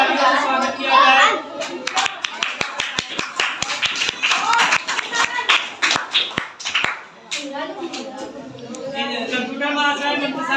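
A group of children claps for a school quiz contestant, bursts of sharp hand claps scattered across the middle under an announcer's voice, with kids chattering around it.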